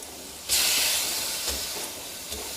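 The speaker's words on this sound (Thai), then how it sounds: "ผัดให้เส้นแห้งครับ ให้พอหมาดๆนะไม่ต้องถึงกับแห้งมาก" Wai Wai rice vermicelli noodles stir-fried in a pan with a little water, giving a loud steamy hiss that bursts in and then slowly fades, with a few faint clinks from tongs.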